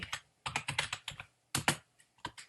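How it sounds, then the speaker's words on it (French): Fingers type a search on a computer keyboard, giving quick clusters of light key clicks in two or three short bursts with pauses between them, close and clear with no voices. "inscris dans la barre de recherche Mosaïque Portail"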